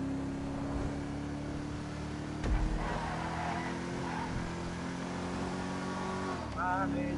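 A game car the player calls a Santa Claus car drones with a steady engine hum that climbs in revs, with a brief burst of louder noise midway and a rising whine near the end.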